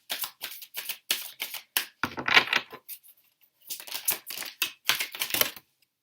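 Tarot cards riffled and shuffled by hand in several quick bursts, close and crisp, with short pauses between flurries and no talking.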